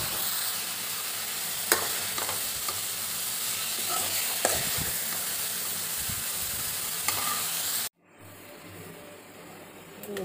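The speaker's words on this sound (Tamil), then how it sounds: "ஒரு நிமிஷம் வதக்கணும்" Horse gram sizzles in a pan as it is sautéed for chutney, a close, continuous frying hiss broken by a few sharp stirring clicks, then cutting off abruptly into near quiet.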